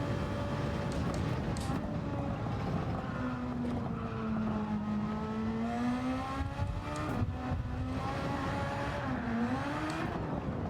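A formula-style race car in a racing video game keeps its engine whining continuously and loudly, the pitch climbing and dipping through gear changes and corners as it laps the track.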